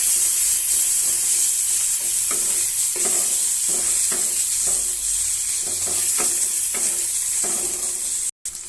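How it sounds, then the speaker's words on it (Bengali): Fish oil sizzles steadily in a hot pan while a utensil scrapes and stirs it, a bright continuous frying hiss broken by repeated stirring knocks close by, with no talking. "এবার আমি এটাতে তেলটা দিয়ে দেব, মাছের তেলটা দিয়ে দেব। তেলটা দিয়ে নাড়িয়ে নেব।"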